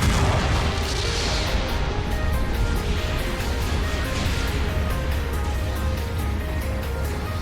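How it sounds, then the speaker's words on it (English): Booming explosions and heavy weapon fire from a mobile suit battle in Gundam Battle Operation 2, a dense continuous rumble of blasts with no voices. "The mobile suit has been destroyed."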